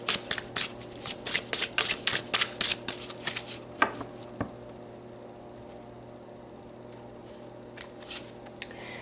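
Tarot cards are shuffled in quick riffled bursts, close and crisp, in a run of short rustling strokes that thins out, followed by a few scattered flicks.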